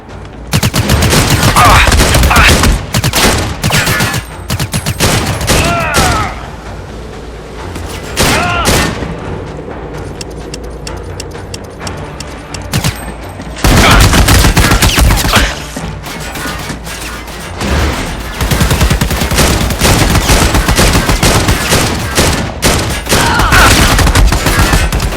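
A firefight aboard an aircraft carrier in the shooter game Army of Two: loud, relentless machine-gun bursts and booming impacts, nearly continuous with brief lulls, close and intense.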